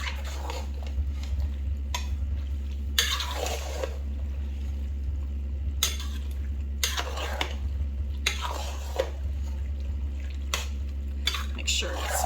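A spoon stirring cheeseburger macaroni with drained ground beef in a pot: intermittent scraping and sloshing strokes in short bursts over a steady low hum, close and moderately loud.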